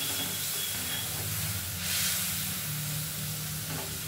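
Spice masala frying with a little water in a pan for a fish curry, a steady hissing sizzle with a faint rise in the middle and no distinct stirring knocks.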